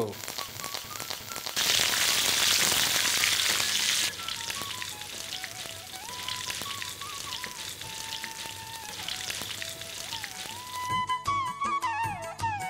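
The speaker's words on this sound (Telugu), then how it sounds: "ఆవాలు మినపప్పు పచ్చనపప్పు ఇప్పుడు మిర్చి రెండు మిరపకాయలు కరివేపాకు" Mustard seeds, urad dal, chana dal, green chillies and curry leaves fry in hot oil for a bitter gourd stir-fry. A loud sputtering burst rises as the chillies and leaves go in, then settles into a steady sizzle under light background music.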